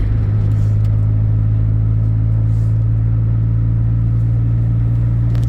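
A 2011 Jeep Wrangler engine pulls uphill as it shifts up into fifth gear. It is a loud, steady low rumble with continuous road and cabin drone heard from inside the vehicle.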